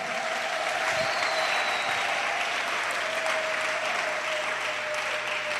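A church congregation applauds and cheers steadily throughout, a dense continuous wash of clapping with a faint sustained tone running underneath.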